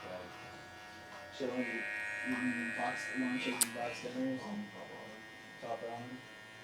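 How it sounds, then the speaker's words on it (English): Hair clippers buzz steadily while fading hair for a burst fade, a close, constant electric drone running under a person speaking throughout. "So clipper open here, clipper open here, take it all the way back"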